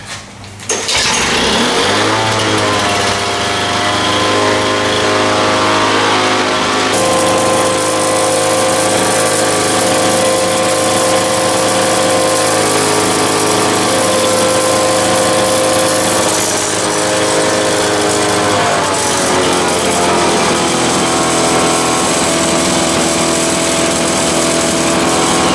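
A Lawn-Boy M Series or Dura Force mower engine cold-starting on full choke: a quick pull, then a loud, close two-stroke roar that runs steadily with slight waver and a mid-way change in pitch.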